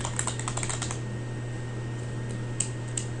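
Quick keystrokes on a computer keyboard as a SQL statement is typed, a soft, steady clatter over a constant low electrical hum, with no one talking.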